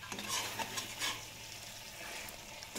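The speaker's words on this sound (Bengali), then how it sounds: "ভেজে রাখা বেগুন দিয়ে আবারও 1-2 মিনিট মতো নাড়াচাড়া করে নেব" Fried eggplant is stirred in a frying pan, a soft continuous sizzle broken by a few scraping strokes of a spatula against the pan, close and fairly quiet.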